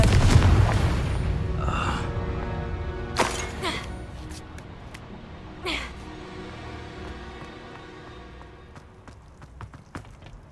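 Spell blasts in Hogwarts Legacy, probably Confringo or Bombarda: a heavy rumbling burst at the start, then a few sharper cracks and impacts spaced over several seconds as the noise fades.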